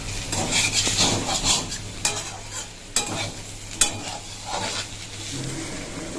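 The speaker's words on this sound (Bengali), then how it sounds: "আমি পেঁয়াজের কলি আর আলু কেটে এই দেখো ভাজা শুরু করে দিয়েছি" Onion greens and cut potatoes frying in a pan while being stirred: a continuous sizzle under repeated scraping strokes, with three sharp utensil clinks against the pan.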